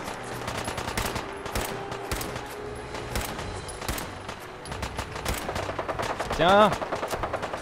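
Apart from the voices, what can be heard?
gunfire in video game Fallout 4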